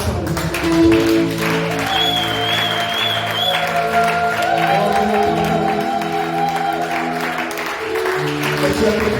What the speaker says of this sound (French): Est-ce qu'on peut déjà aplanir les montagnes par les applaudissements?